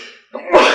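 A single quick human sneeze bursts out close by, a brief sharp intake followed by a loud noisy expulsion, in a casual food-talk setting.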